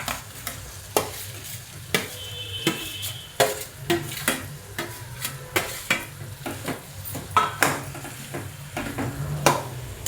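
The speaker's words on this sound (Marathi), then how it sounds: "मी हा बटाटा ह्याच्यामध्ये परतून घेते" Potato being stir-fried with a rough chutney in a pan, a constant sizzle punctuated by regular scraping strokes and metal spatula knocks against the pan, close and fairly loud.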